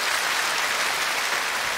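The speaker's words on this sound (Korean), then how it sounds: "박수 한번 같이 보내주시기 바랍니다." A large outdoor audience at a Korean televised singing contest claps for the contestants, a dense, even roar of applause heard alone.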